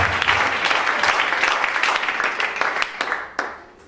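A church congregation bursts into sustained applause and acclaim for Shaddai, dense clapping filling the space with a few sharper claps standing out before it thins toward the end, with voices mixed into the crowd.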